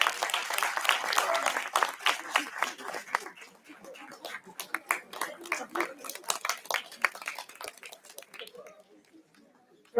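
Applause from a conference audience for a faculty coordinator, fairly full at first, then breaking into sparser, uneven claps that taper off to near silence.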